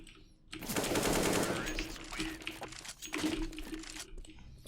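Bursts of automatic gunfire rattle in a PvP shooter video game, a long loud rapid volley followed by shorter sputtering bursts, close and dominant.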